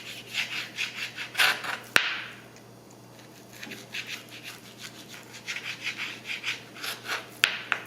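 A knife cuts across the grain of partially frozen beef for jerky, giving rhythmic rasping, scraping strokes in bursts, close and moderately loud, with a short quiet pause partway through.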